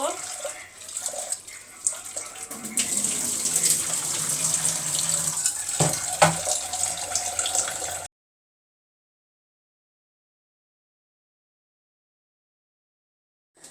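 Tap water runs steadily into a sink or pot while lentils are washed, a close, continuous splashing gush with some clattering, then it stops abruptly and silence follows.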